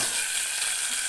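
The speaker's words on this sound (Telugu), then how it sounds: "ఇలా ఒక గిన్నెలో ఆయిల్ వేసి వేయించుకోవాలి. కొద్దిగా డీప్ ఫ్రైగా వేయించుకోవాలి." Cut bitter gourd pieces deep-fry in a pot of hot oil, giving off a steady, close, bubbling sizzle with no pauses.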